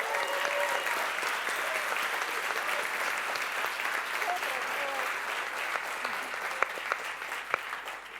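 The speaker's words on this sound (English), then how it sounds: "I would like a thunder of applause for the organizers and the volunteers making JSHeroes magical today" Conference audience at JSHeroes 2025 clapping for the organizers and volunteers, a dense sustained round of applause filling the room at steady loudness, with a few sharper claps standing out near the end.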